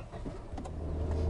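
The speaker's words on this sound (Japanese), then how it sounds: "じゃあ早速エンジンかけていってみましょう。" A Honda N-One car's engine starts up, a low mechanical crank then a steady idle hum building near and moderately loud.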